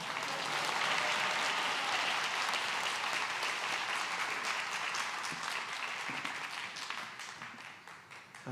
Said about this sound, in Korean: 목사님 나오실 때 할렐루야로 하나님께 영광 돌리며 박수로 맞이하겠습니다